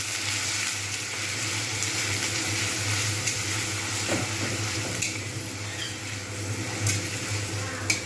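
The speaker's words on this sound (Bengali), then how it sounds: "কড়াতে দিয়ে দিয়েছি সাদা তেল, এখানে দিয়ে দেবো গ্রেট করা পেঁয়াজ আর কাঁচা লঙ্কা" Grated onion and green chilli fry in white oil in a kadai over lowered heat, giving a steady, close sizzle with occasional stirring scrapes and no talking.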